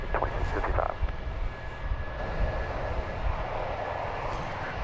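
A Spirit Airlines jet taking off at DFW Airport, its engines producing a loud, steady roar with a broad rumbling wash that holds constant throughout, no voices heard.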